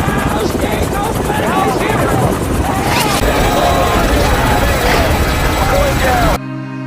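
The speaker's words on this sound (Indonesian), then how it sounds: "dan helikopter terbang melewati tumpukan itu, tiba-tiba ada serangan tembakan musuh yang mengenai anggota sehingga helikopter pun terjatuh" Loud helicopter rotor noise from a war film scene as the craft flies over and comes under enemy fire, a steady heavy drone with clanking and crash-like hits, overlaid by speech.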